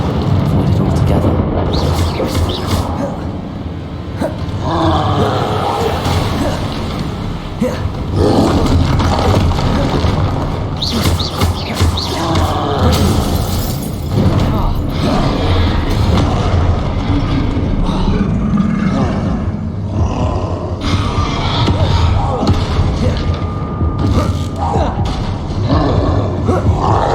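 A troll roars and grunts through a heavy fight in Hogwarts Legacy, loud dense bursts of growling and crashing impacts over a continuous rumbling din, with a voice speaking at times.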